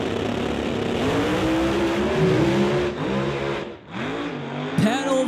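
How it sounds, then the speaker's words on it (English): Drag race cars, including a Mustang, roar loudly down the track at a drag racing event. The engine note climbs steadily and then briefly dips, and a commentator talks over the engines. "The Mustang getting a piece of the fence almost down there at the top end, and Dave Kowalski looking like a sprint car"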